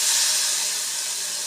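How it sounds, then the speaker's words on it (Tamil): Snake gourd tossed into a hot pan of tempering with turmeric gives a steady, close hiss of sizzling steam that holds evenly for the whole brief moment, with no voices. "இப்போ கழுவி வச்சுருக்கிற புடலங்காயை போட்டுருங்க."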